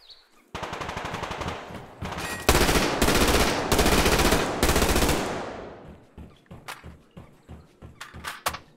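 A P90 submachine gun in the game Survarium firing long, loud, rapid bursts back to back, then dropping to scattered single shots and clicks near the end.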